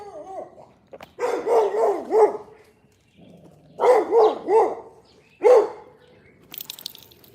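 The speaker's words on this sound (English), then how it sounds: "if you're walking early morning, you hear dogs barking. These are guard dogs, okay?" Guard dogs barking outdoors in the early morning: three loud bursts of repeated barks, the first and second of several quick barks each and the last a single bark, close to the listener with quiet gaps between.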